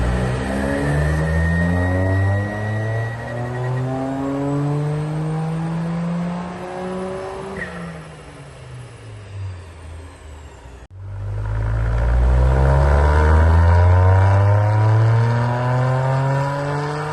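A rebuilt, turbocharged 1.6-litre three-cylinder Toyota GR Yaris tuned toward 500 horsepower revs hard through rising gears on the road, loud and close, with a brief lift-off before it pulls strongly again.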